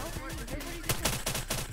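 An impact effect gun from a mod menu fires in a video game: a few sharp, punchy shots in quick succession follow a brief quieter stretch, all at moderate volume.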